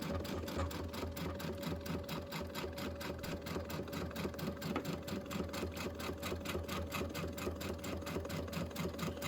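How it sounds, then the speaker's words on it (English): A sewing machine runs slowly and evenly, its needle ticking in a steady regular rhythm over a low motor hum, close and continuous with no talking. "I'm just sewing nice and slow."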